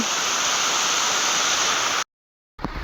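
A forest waterfall at Chura Pahad during heavy rain roars as a steady, dense wash of rushing water, loud and close, cutting off abruptly to silence before a brief return of noise.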